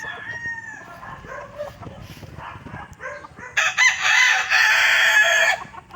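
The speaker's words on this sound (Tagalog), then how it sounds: "Ayun, daming manok dito mga boss." Chickens and roosters on a poultry farm: soft clucks and calls at first, then a loud, close rooster crow rises and holds for about two seconds before fading, with no talking.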